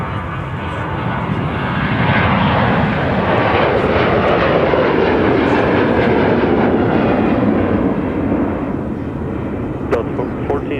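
An airliner in American Eagle retro livery at Minneapolis–St. Paul airport gives a loud, steady jet roar that swells and holds close for about eleven seconds.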